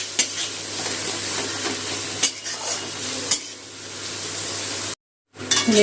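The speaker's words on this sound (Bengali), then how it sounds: "পেঁয়াজ আর রসুনটা একসাথে ভেজে নেব।" Onion and garlic frying together in a pan with salt, a close, steady sizzle broken by scraping stirs and a few utensil knocks, then a brief silence.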